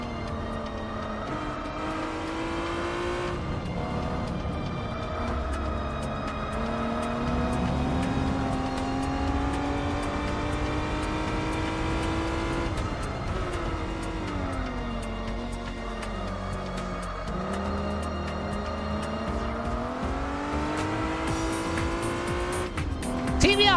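A TVR race car's engine roars steadily in Gran Turismo 4, its pitch climbing and dropping through gear changes over continuous loud racing sound, with faint tire squeal and no voices.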